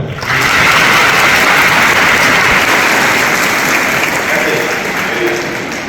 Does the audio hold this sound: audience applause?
yes